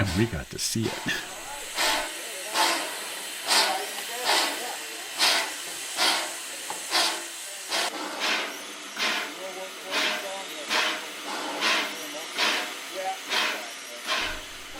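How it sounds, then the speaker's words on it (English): Rhythmic chuffing of a large steam train hauled by two locomotives on the Nevada Northern Railway, regular heavy puffs of steam repeating at an even pace, fairly close. "What a huge train being pulled by 2 locomotives."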